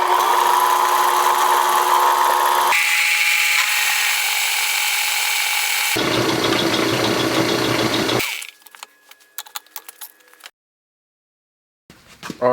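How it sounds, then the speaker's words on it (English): A drill press bores through a stack of four steel mounting plates held in a vise, a loud sustained motor whine shifting pitch in stages, then stopping into sparse clicks and scraping handling noises. "I can drill through all 4 of them at the same time."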